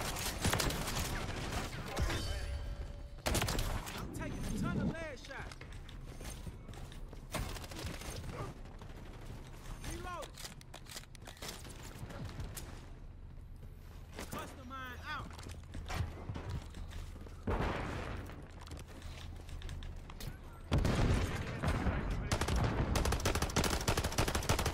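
Reclaimer 18 shotgun fire in the video game MW3 comes as several loud, separate blasts with mechanical reload clacks between them, mixed with game noise and voices.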